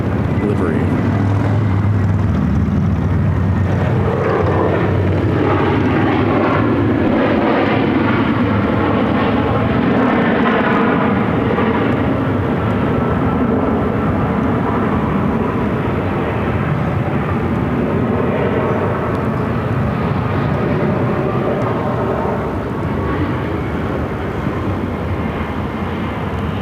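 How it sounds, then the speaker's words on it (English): Frontier Airbus A321 jet airliner on the ground at Phoenix airport, a loud steady engine roar and whine that holds throughout, with radio chatter heard over it. "This is Frontier Flight 1827 from Chicago. Airbus A321."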